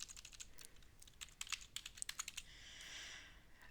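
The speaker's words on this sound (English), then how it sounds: "Let's type furnace." Quick keystrokes on a computer keyboard, a burst of close, soft clicks in an uneven rhythm that pauses and trails off into faint hiss.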